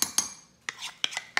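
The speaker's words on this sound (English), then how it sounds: "And now I am putting the batter in." Spoon clinking against a microwave-safe coffee mug while chocolate peanut butter protein cake batter is spooned in, five or six sharp close taps spaced irregularly in a quiet room.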